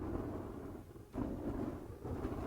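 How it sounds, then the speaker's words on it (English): Burning attacks striking an enemy in the video game Diablo IV, deep booming thuds over a continuous low rumble, with two distinct impacts landing about a second apart. "whenever a burning attack makes contact with an enemy, it makes this kind of like thud sound, like this boom, boom"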